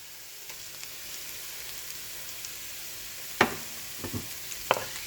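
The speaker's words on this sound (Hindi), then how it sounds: "अब इसमें हाफ टी स्पून सफ़ेद ज़ीरा ये डालेंगे, मिक्स करेंगे।" White cumin seeds sizzling in a pan while being stirred, a continuous soft frying hiss broken by a few sharp spoon scrapes and knocks against the metal.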